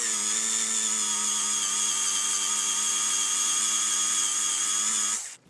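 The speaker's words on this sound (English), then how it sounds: "I'm going to drill right down through the middle of the rivet here in each one of these, and that's going to pop them out" A power drill bit bores out the rivets on a model railway turnout, giving a steady, loud, high-pitched whine that holds evenly for about five seconds before spinning down and stopping.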